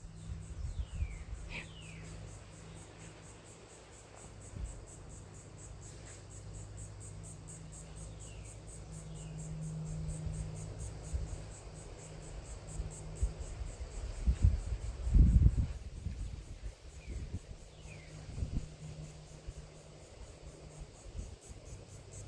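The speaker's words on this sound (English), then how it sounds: "The crickets are still chirping." Crickets chirp in a steady, high continuous trill outdoors at night in Florida, with scattered bird calls and some low rumbling bursts underneath.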